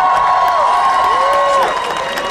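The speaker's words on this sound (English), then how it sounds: "I'd like to give some applause to Gretchen Hill." Applause and cheering from a graduation ceremony crowd honoring the program advisor, a loud, steady wash of clapping with a sustained tonal line running through it.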